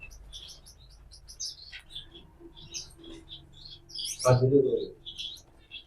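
Yellow golden finches chirp in quick, high twittering bursts, close and fairly loud, with a short muffled voice or handling sound in the middle.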